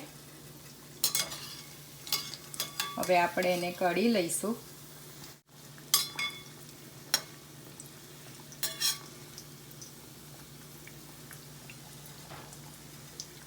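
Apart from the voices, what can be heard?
muthiya dumplings frying in oil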